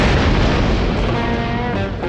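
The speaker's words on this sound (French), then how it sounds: "Une explosion en plein désert." A cartoon explosion booms across the desert, a loud, dense blast that rumbles on steadily for about two seconds with no pause.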